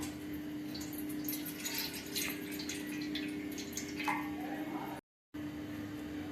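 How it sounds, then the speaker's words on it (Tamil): Water trickling and splashing into a wide cooking pot, quiet and close, over a steady low hum. "ஒரு பரந்த பாத்திரத்தில் கொஞ்சம் தண்ணி விட்டுக்கலாம்"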